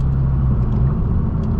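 Low, steady exhaust rumble from an 11th-generation Honda Civic Si fitted with a MAPerformance exhaust, a continuous deep drone with faint crackling burbles, close and loud, no voices.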